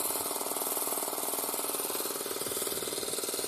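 Rapid needle machine buzzing steadily like a drill, a continuous dense mechanical drone with a fast even pulse, close and moderately loud throughout with no talk.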